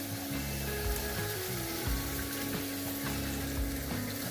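Capcay vegetables stir-fried in a pan give off a steady, close sizzle and crackle, with intermittent scraping thumps of stirring throughout.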